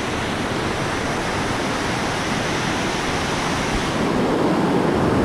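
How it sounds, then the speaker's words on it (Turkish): A mountain stream, the Altıparmak stream in the Artvin mountains, rushes in a steady, loud, dense wash of water noise that stays unbroken throughout, with no voices. "Bu az önce Altıparmak Dağları'na doğru gittiğim yoldan gelen dere."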